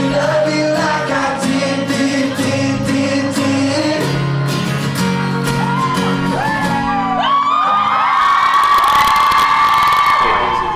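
A New York concert crowd at a show on the Lovesick Tour: music plays first, then a loud wave of cheering, whooping and shouting swells up and fills the final few seconds.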